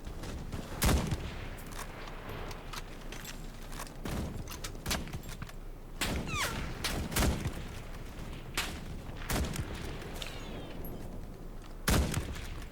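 Vz.24 Czech Mauser bolt-action rifle firing in the World War II shooter Enlisted, sharp irregularly spaced shots amid a wider battlefield of distant gunfire and booms, no voices.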